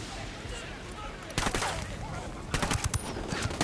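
Loud bursts of automatic gunfire in the shooter game Ghost Recon Wildlands, with rapid shots clustering around a steady background din, and voices speaking between the volleys.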